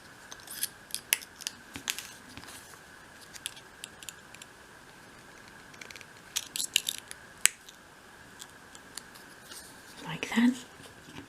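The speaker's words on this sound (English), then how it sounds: "bring in your pliers and cut those to about 3 millimetres or 1/8 of an inch long" Small sharp snips from pliers cutting dressmaking pins pressed into wood for a 1/12 scale dolls house cupboard, a scatter of faint close clicks under quiet whispered talk.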